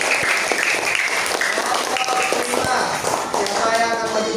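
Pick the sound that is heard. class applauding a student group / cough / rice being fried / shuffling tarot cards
class applauding a student group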